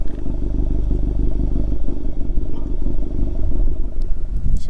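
A car fitted with an Integrated Engineering downpipe idles close by with a steady, slightly loud, throaty rumble and some light clatter, and no one speaks.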